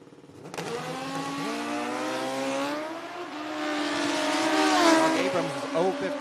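A drag-racing motorcycle, a backup bike at a Midwest sportsman race, roars down the strip, its loud engine climbing steadily in pitch and swelling as it nears, with a brief drop partway through.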